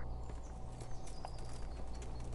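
Horse hooves clip-clop steadily at a walking pace in the medieval game Kingdom Come Deliverance, faint and even under a low ambient background.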